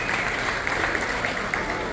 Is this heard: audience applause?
yes